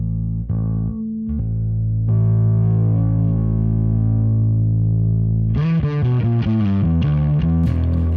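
Bass played through an Ampeg SGT-DI with stacked distortion pedals, thick buzzing sustained notes that shift pitch, then a choppier run of distorted notes near the end, loud and alone.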